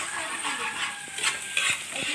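Garlic frying in a pan for breakfast, with a utensil stirring and scraping the pan in short strokes over a steady, close sizzle.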